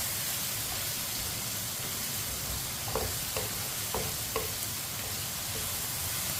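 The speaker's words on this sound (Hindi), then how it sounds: "मसालों को भी 1 मिनट के लिए फ्राई कर लेंगे, पका लेंगे।" Spices frying gently in a pan over a low flame for aloo gosht, a steady soft sizzle with a few light stirring scrapes midway, no talking.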